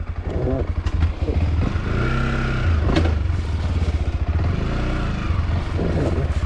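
A tall motorcycle rides a slippery forest trail, its engine chugging loudly and steadily close by, with brief revving swells throughout.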